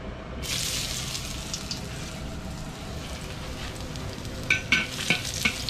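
Ginger and chicken stir-fried in a home wok sizzle steadily and quietly, with the spatula scraping and clacking in short bursts toward the end.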